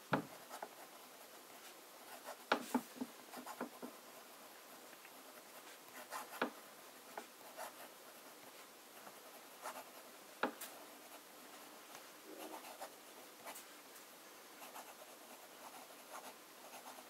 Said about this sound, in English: I'll start with fine writing.